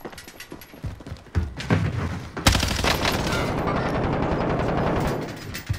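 Gunfire in a video game: scattered single shots at first, then a loud close burst that swells into dense, continuous automatic fire with thumping impacts, running for several seconds.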